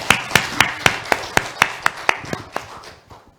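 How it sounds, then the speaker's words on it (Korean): A church congregation claps for a deacon in a short burst of roughly a dozen sharp, evenly spaced claps. The claps sound fairly close and fade out toward the end. "우리 앞에 나오신 우리 집사님 한번 격려의 박수 한번 주시기 바랍니다"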